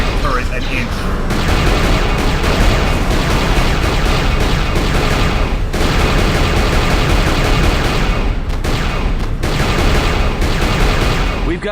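Turret gunfire in the Star Wars game KOTOR 2 roars in loud, dense, continuous bursts, broken only by a few brief pauses, with the rapid shots blending into a near-constant barrage.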